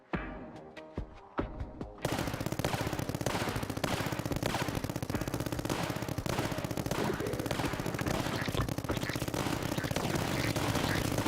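Gunner towers firing in the Bee Island tower defense game, a few separate shots followed by dense, continuous rapid gunfire that goes on unbroken, with faint talk underneath.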